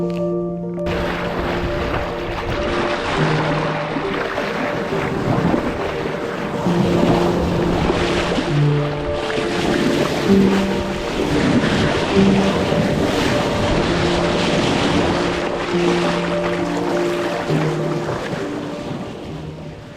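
Sailing yacht at sea, with steady broadband wind and wave wash running throughout, loud and close, plus low tonal hum and creaking in the background; no speech.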